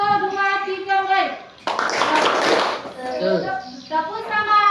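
A group of schoolchildren in a classroom clap a rhythmic 'tepuk semangat' chant, bursts of hand claps alternating with sung chanting voices, close and lively.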